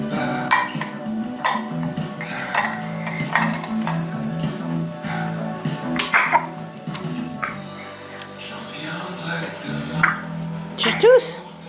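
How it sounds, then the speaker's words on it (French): A small child coughs a few times in a home kitchen where Christmas biscuits are being made, the short dry bursts mixed with the soft clink of dishes and someone talking nearby. "Tu tousses?"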